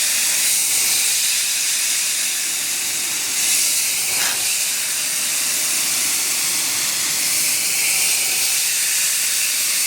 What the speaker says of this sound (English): So what I'm using is just the flat setting on this sprayer hose here, flat. And so I'm just going to go up and down this thing and rinse this out.